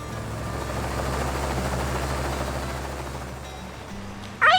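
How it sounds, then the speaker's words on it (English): A helicopter setting down, its steady rotor and engine drone filling the air close by before easing off near the end, with a brief louder burst just at the finish. "the helicopter is going to land"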